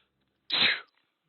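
A single short sneeze, close and fairly loud, between moments of silence.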